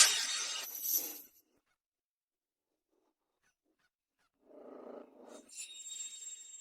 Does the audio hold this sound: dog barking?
yes